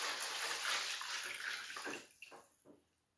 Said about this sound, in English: we're just going to pour some water in